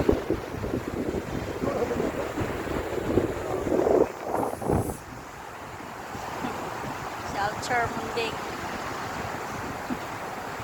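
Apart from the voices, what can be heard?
strong wind by the sea at Plaridel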